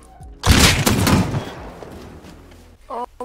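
Burst of gunfire in the survival game Rust, a loud crack followed by a rolling rattle of shots and fading echoes, with brief voice sounds at the end.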